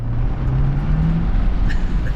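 A Ford F350 Super Duty pickup with the 6.7L PowerStroke diesel engine accelerates hard, producing a steady loud low engine drone with a slowly rising tone. No voices are heard.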